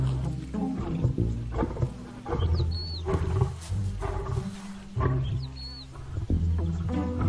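A lion roars in the African wild, giving several deep, loud, rasping roars in a repeating rhythm, with faint bird calls in the background.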